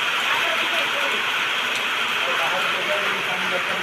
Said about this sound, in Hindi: पूरा वर्षा जे प्रबल देख बहुत जोर वर्षा